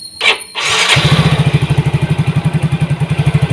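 A Yamaha Mio GT scooter with a replaced injector and its CO mixture adjusted starts after a brief crank, then idles close by with a fast, even, throbbing putter that holds steady.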